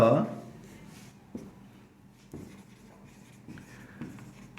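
A pen scratches faintly on paper in short, intermittent strokes while someone talks quietly over it.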